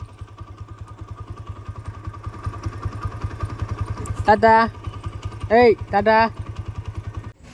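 A motorcycle engine idles with a rapid, even thumping putter, steady and close throughout as the rider gets ready to set off, while a voice speaks briefly and a horn-like tone sounds in short bursts over it.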